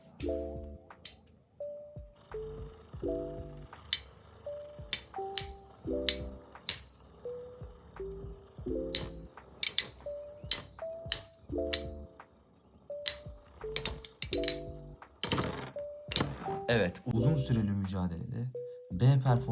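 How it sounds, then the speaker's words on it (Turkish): Bright, high bell dings ring out repeatedly in short bursts during a Gravity Destroyer spinning-top battle, mixed with an excited voice talking and other clattering sounds. "Çan sesini duyuyorsunuz"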